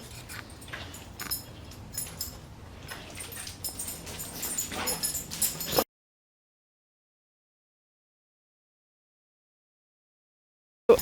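A dog whimpers and whines in short, repeated bursts for several seconds, close by, before everything falls silent.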